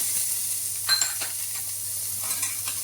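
Chopped onion and other ingredients fry in a hot pan for a cheese masala sandwich, producing a continuous hissing sizzle with small scattered pops and a few light stirring scrapes, close and steady.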